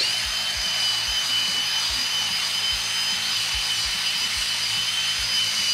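Large eraser scrubbed hard against bare skin, a steady broadband rubbing hiss with repeated low thumping strokes in an even rhythm, close and fairly loud, no talking.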